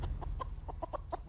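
A chicken in the Fallout TV series gives a quick string of soft, clipped clucks, about seven short calls in just over a second, heard over a low rumbling background.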